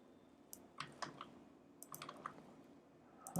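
Someone types HTML code on a computer keyboard in short bursts of light plastic clicks and key taps. The typing is quiet and close, broken by brief pauses, with no speech.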